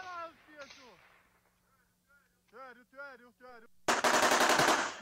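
Gunfire in combat footage from the war in Ukraine arrives as a sudden loud rapid burst near the end, after quieter stretches where voices speak with excited, chirpy tones.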